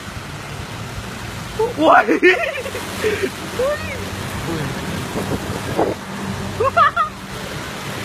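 Steady rain pours outdoors over a flooded area, a continuous broad hiss and wash, while people talk and call out over it near the microphone.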